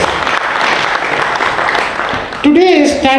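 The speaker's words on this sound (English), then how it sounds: "Give a big hand of applause to this particular event." An audience at a company founder's event claps in a dense, sustained burst, and a voice rises over the clapping at the end.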